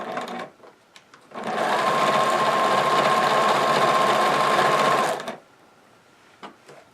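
A sewing machine runs a stocking seam in one continuous burst of about four seconds, a loud steady whirring hum that starts and stops sharply, with brief quiet handling sounds before and after.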